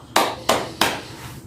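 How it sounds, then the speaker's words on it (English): Three sharp hand claps, evenly spaced and close, each one crisp and bright with a short decay, during a beginner English lesson. "I clap. You clap. Can you clap? I clap."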